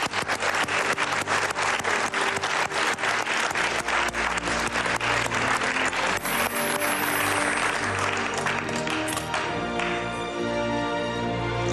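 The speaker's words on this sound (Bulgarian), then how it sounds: "Силни аплодисменти за мен" A game show studio audience claps hard and without a break, loud sustained applause with rhythmic bursts running the whole time, and music tones join near the end.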